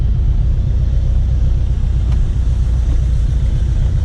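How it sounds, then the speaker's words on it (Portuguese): A cold supercharged Chevrolet Chevette engine idles with a loud, steady low rumble, rough and unchanging, with no voices. "Olha o barulho do carro frio, vou nem acelerar ainda."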